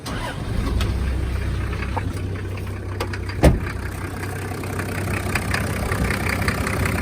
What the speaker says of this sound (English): So let's fire it up and see if it works.